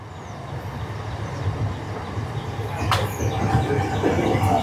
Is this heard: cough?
no